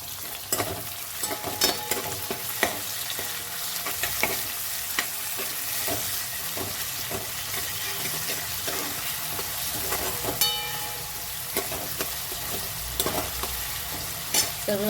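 Onion frying golden in a pan with coriander added, a continuous close sizzle broken by repeated scraping and clinking strokes of a spoon stirring against the metal, with no voices.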